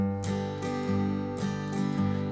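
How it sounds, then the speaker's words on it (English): Acoustic guitar chords, ringing sustained with a few soft, quick brushed upstrums on the thinnest strings, gentle and close. "a light brush on those thinnest couple strings"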